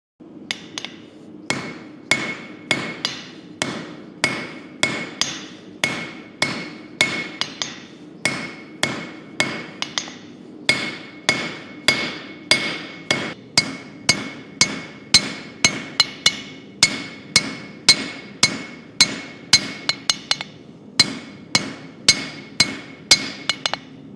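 A blacksmith hammers a slot punch through hot metal on an anvil, delivering a long, steady series of sharp ringing blows at an even rhythm, close and loud, with brief pauses between runs of strikes.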